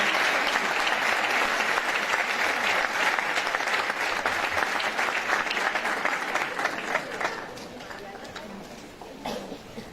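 An audience at a conference session welcomes a speaker to the stage with sustained applause, loud and even at first, then thinning out into scattered claps and murmuring toward the end.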